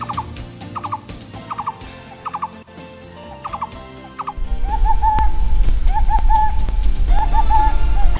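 A barbet calls loudly and repeatedly in short groups of ringing notes, carrying clearly. Partway through, a steady high buzzing backdrop sets in and continues under the calls.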